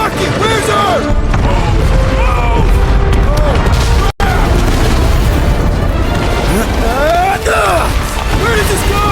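A loud booming explosion in the video game Marvel's Guardians of the Galaxy, thick rumbling blasts layered with crashing debris, a brief cut to silence midway, and characters shouting over the chaos.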